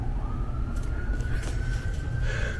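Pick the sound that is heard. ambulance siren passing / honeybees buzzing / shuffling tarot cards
ambulance siren passing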